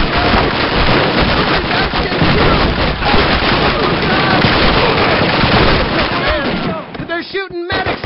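Call of Duty battlefield gunfire rolls on dense and loud, with rifle and machine-gun volleys and explosions overlapping close by, while voices shout under the barrage near the end.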